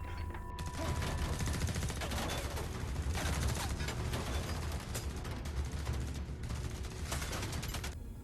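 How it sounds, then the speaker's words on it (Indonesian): Gunfire from an apartment shootout in an action film: dense, rapid volleys of shots and bursts, loud and sustained with little pause. "Baku tembak di dalam apartemen pun tidak bisa dihindarkan lagi."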